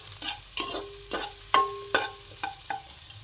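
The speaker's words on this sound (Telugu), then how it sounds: "పచ్చిమిర్చి, ఉల్లిగడ్డ వేస్తాను." Green chillies and onion frying for bagara rice: a steady low sizzle in a pan, broken by a series of short scraping stirs and clinks of a spoon at close range, with no talk.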